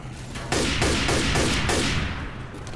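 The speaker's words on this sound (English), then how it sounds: "hunting rifle again." Rapid hunting rifle gunfire in the video game Left 4 Dead 2 sounds as a dense, loud run of about six shots over a steady background of game noise.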